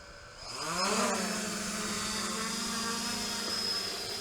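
The motors of an FPV drone are armed and throttled up for takeoff. A steady buzzing whine rises in pitch and swells over the first second, then holds as a loud, even drone.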